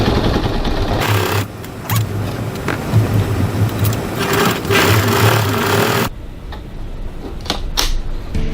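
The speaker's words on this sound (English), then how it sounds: "going to stitch approximately 6 millimeters, 1/4 of an inch from the edge of those corners and base stabilizer pieces, just to hold it all together" Sewing machine stitching through stabilizer pieces at the base and corners of a crossbody bag, a loud steady mechanical whir for about five seconds that stops abruptly, followed by quieter handling sounds.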